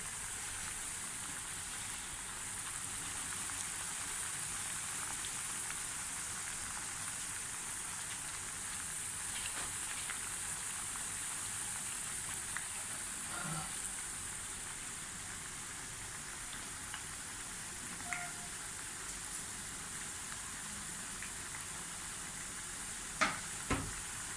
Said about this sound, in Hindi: अब ये आलू फ्राई होने शुरू हो गए